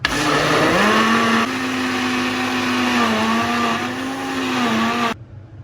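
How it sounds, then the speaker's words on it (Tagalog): A blender whirs loudly in short pulses while blending avocado and banana for ice candy, its motor pitch dipping and rising between bursts before stopping at the end. "Iyon na natin ang ating blender. Tapos, pulse muna."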